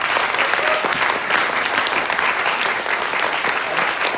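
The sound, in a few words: audience applause at award ceremony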